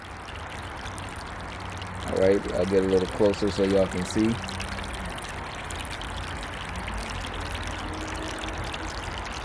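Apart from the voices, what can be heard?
water trickling from an electric three-tier bird bath fountain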